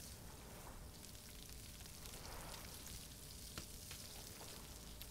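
Crab burning over a campfire in the survival game Stranded Deep gives a steady, soft sizzling crackle, a continuous fizzing hiss with faint pops throughout.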